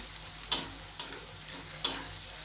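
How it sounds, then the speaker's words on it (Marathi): Onion frying in hot oil in a pan, a close, steady sizzle broken by three sharp stirring scrapes of a spatula, with no voices. "तर आता आपण कांदा तळून घेऊया"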